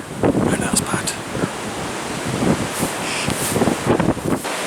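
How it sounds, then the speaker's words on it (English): A strong gust of wind buffets the microphone on wet, wild Croft Hill in Leicestershire, a loud, close, continuous rumbling roar that swells and shudders for the whole stretch. "a huge gust of wind came by"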